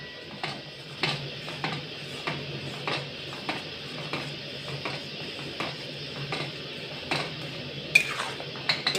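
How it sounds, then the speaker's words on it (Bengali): Mango pulp being stirred in a wok, repeated regular scraping strokes of a spoon against the metal pan at a steady rhythm, close and fairly quiet, with no voices. "এবার আমি আমটাকে অনবরত নেড়ে নেড়ে একটু শুকিয়ে নেব"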